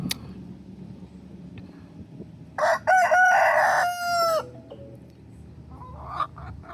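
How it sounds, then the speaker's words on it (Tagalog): Pekin chickens in a country park: a loud, close rooster crow rings out midway, with soft clucking and quiet farmyard background before and after. "Ang babaeng Pekinese chicken."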